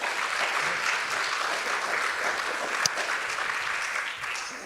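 Sustained audience applause at the end of a talk by a reverend, dense steady clapping that stays close and fairly loud for the whole stretch before easing slightly at the end.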